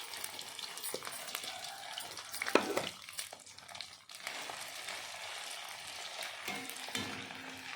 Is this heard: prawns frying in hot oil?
yes